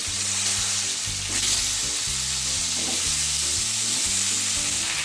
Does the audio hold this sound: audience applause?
no